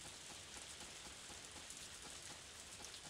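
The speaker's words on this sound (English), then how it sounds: "it's raining." Steady rain falls in the farming video game Story of Seasons: A Wonderful Life, a dense, even patter that runs unbroken and fairly soft throughout.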